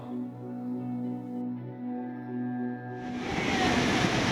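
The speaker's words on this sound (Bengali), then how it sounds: "দীঘা সমুদ্রের পাড়ে বসে জলের আওয়াজ শুনতে কেমন লাগে" Sea waves wash onto the beach at Digha, a broad surf rush rising in the last second after a stretch of steady droning hum, fairly close and with no one talking.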